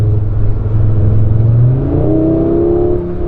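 A 400-horsepower Audi RS3 in dynamic mode accelerates hard, its engine note climbing steadily in a loud, close, continuous pull.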